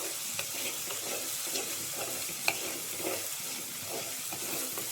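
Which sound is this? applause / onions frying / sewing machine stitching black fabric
onions frying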